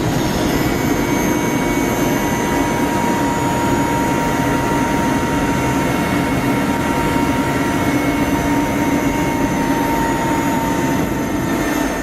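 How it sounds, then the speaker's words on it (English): Army helicopters circling overhead, a loud steady engine and rotor drone with high turbine whine, unbroken and alone for the whole stretch. "And army helicopters circle above, obviously ready."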